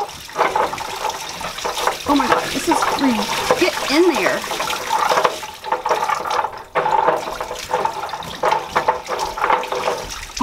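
Water gushes from an unscrewed pipe in a basement, a steady broadband rush and splashing running throughout, heard close beneath excited talking and exclamations.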